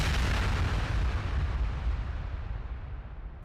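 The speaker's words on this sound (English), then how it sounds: "Suddenly, an explosion happens." A heavy explosion sound effect: a loud, sustained rumbling blast full of deep energy and crackle that slowly decays and thins out over a few seconds.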